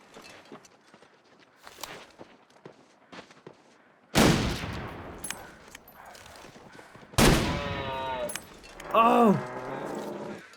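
Rifle shots fired at a moose in the survival video game The Long Dark, two sudden loud blasts a few seconds apart after quiet crunching footsteps, followed by a falling animal bellow.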